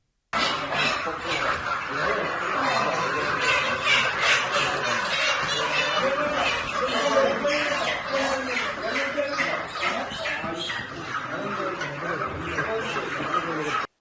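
Chickens in a poultry shop cluck and squawk repeatedly in a busy, close chorus, with brief human voices mixed in.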